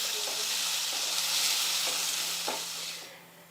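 Onion, tomato and curry leaves stir-frying in a pan for a South Indian avaraikkai palya: a steady close sizzle with a few soft scrapes of stirring, fading away near the end, with no talking.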